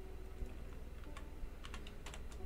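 A sticking computer keyboard is typed on in quick uneven bursts of close clicking keystrokes over a faint steady background hum, with no talking.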